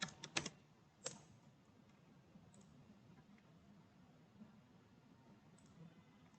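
Keyboard typing on a computer: a few quick clicks at the start and one more keystroke a moment later, then quiet background hiss.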